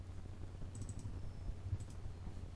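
Computer mouse clicks during SOLIDWORKS CAD work, a few quick soft clicks in a short burst over a steady low hum from the computer.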